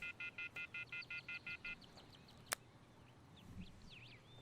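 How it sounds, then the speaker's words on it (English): Rapid series of about nine even electronic keypad tones as a cell phone number is dialed in the video game Everlasting Summer, followed by a sharp click and faint outdoor bird chirps. "Take out my cell phone and dial the first number in my contact list."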